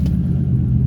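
A SN95 Mustang Cobra engine runs in third gear while driving, a loud, steady low rumble with road noise throughout this brief moment, no voices.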